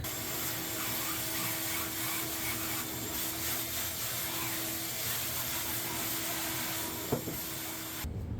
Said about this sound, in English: I'm going to dust this off with the shop vac.